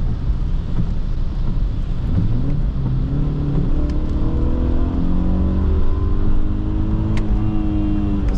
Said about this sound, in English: experience all this beautiful revving and sound.